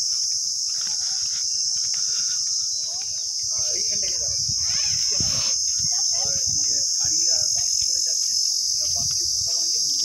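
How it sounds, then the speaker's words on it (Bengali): Crickets chirp in a steady high-pitched drone in the Sundarban, loud and continuous throughout, with faint voices and low background noise underneath. "ঝিঝি পোকা ডাকছে।"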